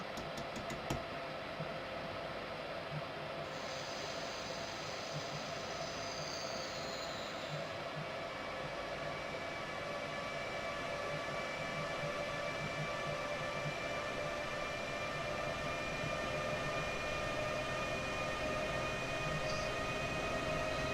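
A BR189 electric locomotive in Train Simulator 2015 on the Hamburg–Hanover line pulls away with a steady, continuous rolling rumble and a faint hum, unchanging throughout, with no talk.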